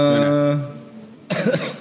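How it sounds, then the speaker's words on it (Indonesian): A harsh cough bursts out near the end of the clip, following a drawn-out sung or voiced tone in a casual podcast setting. "batuk lu."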